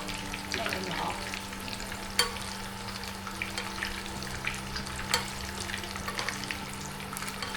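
Food frying in hot oil while a spoon stirs it, a steady close sizzle with scattered scrapes and a couple of sharper knocks against the pan.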